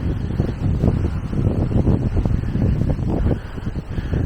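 A wind storm buffets a motorhome in strong, continuous gusts, a loud low roar and rumble close to the microphone with no talking.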